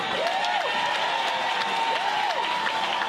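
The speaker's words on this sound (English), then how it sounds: "A resounding applause" Parliamentary audience applause for a member of parliament in Grenada, a steady wash of clapping with a few whoops rising over it at moderate distance.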